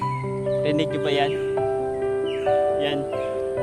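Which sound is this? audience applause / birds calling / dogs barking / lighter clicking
birds calling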